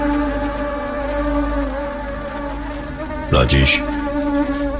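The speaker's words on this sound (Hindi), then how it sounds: "लोड शेडिंग होने के कारण मच्छरों ने भी बहुत परेशान कर रखा था" Mosquitoes drone in a continuous layered whine through a hot, humid night with the power cut, steady and close, with a brief voiced exclamation near the end.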